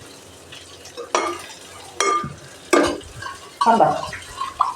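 Water is poured into cornflour and stirred with a spoon in a kitchen bowl, giving a few distinct scraping and splashing bursts over quiet background, with a brief spoken word.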